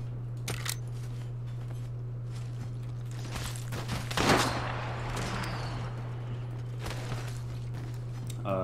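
A video game firefight: scattered gunshots crack out at irregular intervals, some sharp and a few more distant, over a constant low electrical hum.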